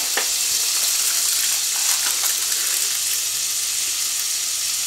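Butter sizzles in a pan with grated garlic over lowered heat, a close, steady frying hiss with small crackles running continuously and no speech.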